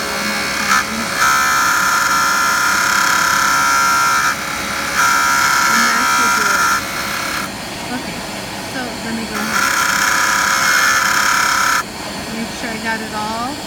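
A JOOLTOOL spins as a bevelled edge of dichroic glass is pressed against it for polishing, making a loud, steady high-pitched whine and buzz that rises and falls in intensity as the glass goes on and off the wheel.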